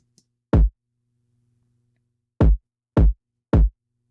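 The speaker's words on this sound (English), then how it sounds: "the kick drum sounds like this without any processing" An unprocessed, heavily clipped kick drum hits four times, one alone then three in a quick even run, each a loud, punchy, dry thump with nothing else sounding between them.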